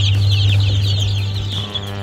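Young Legbar, Dalmatian and Plymouth Rock chicks cheep continuously in a dense, high chorus over a steady low mechanical hum, with no voices.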